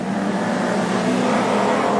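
Street stock race cars roar around the dirt oval at Carina Speedway, a steady loud engine drone with layered revving as the pack runs close together, no talk.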